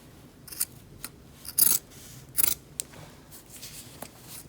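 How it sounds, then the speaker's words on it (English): Scissors cut through the collar of a plaid flannel shirt in a few short, crisp snips with quiet pauses between, close and fairly loud with no talking. "So for the collar, you want to cut that collar all the way off."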